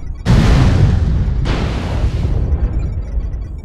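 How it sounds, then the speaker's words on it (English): Two heavy artillery explosions in MechWarrior Online, the first booming in at once and the second following about a second later, each leaving a long rumbling roar that slowly fades, with no talking. "Artillery strike activated."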